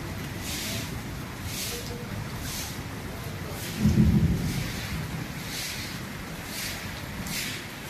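Steady rain falls with a soft, even hiss, and a low roll of thunder swells up in the middle before fading back under the downpour.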